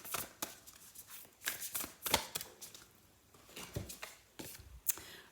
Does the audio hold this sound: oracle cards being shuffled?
yes